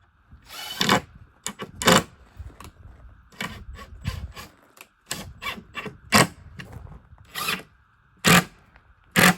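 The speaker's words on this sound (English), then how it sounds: "I can fit the sander in there" A power sander works inside a wooden spice box in short, irregular bursts of whirring and buzzing with brief pauses between them, close and loud, no talk.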